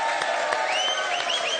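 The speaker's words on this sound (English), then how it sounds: "Give him a big round of applause." A studio audience on a football talk show bursts into a big round of applause, loud dense clapping mixed with crowd cheers and a few whoops, no talk over it.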